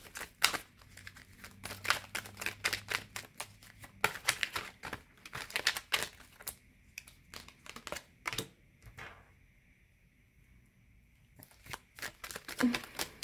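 Tarot cards are handled, shuffled and laid down on a surface in a long run of dry crisp taps and crinkles, some quick clusters and a few quieter gaps, close and fairly soft.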